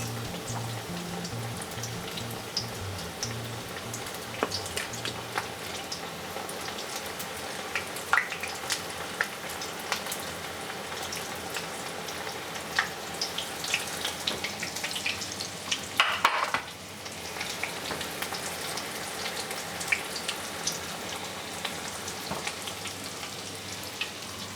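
Vegetable skewers deep frying in oil heated to 170 degrees, a steady close bubbling sizzle running throughout with occasional louder crackles and a brief surge midway.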